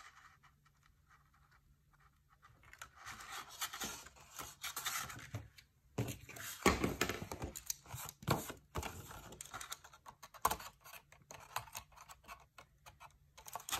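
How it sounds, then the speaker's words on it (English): Scissors snip and slice through paper along a notch in a snowflake border die cut, a series of crisp, close cutting strokes with brief pauses, no voices. "we can just use some scissors to cut right along there"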